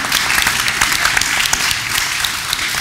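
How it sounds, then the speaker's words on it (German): Encouraging applause from the audience at a university panel discussion, a dense, steady patter of many hands clapping at moderate volume with no voices over it. "wir geben ihm einen aufmunternden Applaus"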